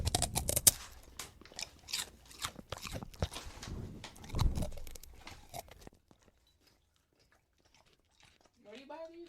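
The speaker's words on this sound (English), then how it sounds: "Crunchy green beans." Someone crunches on crunchy green beans in an ASMR session, with loud, wet bites and chewing coming close together and people talking over them. The crunching then stops, leaving near silence and a brief faint voice.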